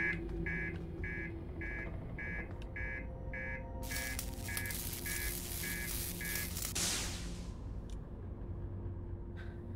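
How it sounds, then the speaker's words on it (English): The ship's master alarm in the Outer Wilds video game signals reactor damage with a rapid series of repeated electronic beeps, then a harsher blaring buzz layered over a low engine hum, fading after several seconds into quieter beeps. "Master alarm. Reactor damaged."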